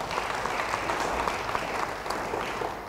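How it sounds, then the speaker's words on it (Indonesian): A church congregation claps in dense, continuous applause, steady and fairly loud throughout the short stretch. "Yang mau beri tepuk tangan bagi dia."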